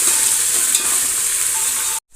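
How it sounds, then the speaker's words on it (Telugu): Curry leaves and spices frying lightly in a pan for hotel-style puri curry, a steady close hiss of sizzling oil with faint stirring, cutting off abruptly near the end. "కరివేపాకు, ఇవి అన్నీ లైట్గా ఫ్రై అయ్యేంత వరకు కుక్ చేసుకుందాము."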